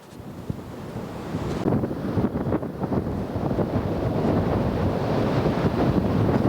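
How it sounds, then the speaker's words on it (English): Strong nor'easter wind gusts roar across a beach and buffet the microphone, with rough ocean surf crashing steadily underneath, loud and continuous, with nobody speaking. "We're getting the same wind gusts and strong wind gusts and waves that he is getting."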